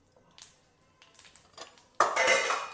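Mustard seeds, cumin and sesame seeds spluttering in hot tempering oil in a phodni pan, faint crackles at first, then a loud, dense burst of close sizzling and popping.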